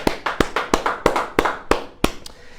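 A few people in a church service clap in a slow, uneven rhythm, about eight sharp claps spaced through a couple of seconds, fairly close and with no talk over them.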